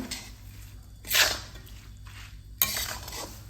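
Spices, nigella seeds, carom seeds, chili flakes and salt are stirred together in a dish for an oil-free sweet and sour green chili pickle, with a few clinking scrapes of a spoon against the dish.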